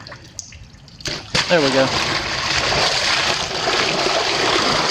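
Water rushes out of a pond through a freshly opened drain valve, beginning after a clunk and a short spoken remark, then settling into a steady, loud, continuous gushing flow.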